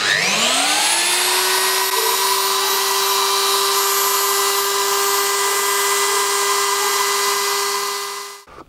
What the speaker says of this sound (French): Carotter sans eau, c'est la merde.